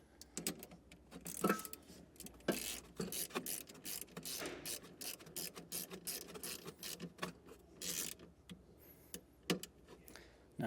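A ratchet clicks in quick repeated strokes while tightening the nut on a positive battery cable of a 2022 Acura, close and crisp with short pauses between runs.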